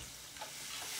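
Pressed half-pound burger patties cook two at a time, a continuous hissing sizzle that swells slightly toward the end, quiet and brief with no talk.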